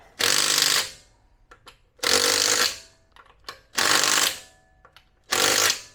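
Impact wrench tightening lug nuts on a Cybertruck wheel, diagonal pattern: four loud, broadband whirring-rattling bursts of under a second each, spaced about every 1.5 seconds, with brief clicks and handling noise between them and no talk.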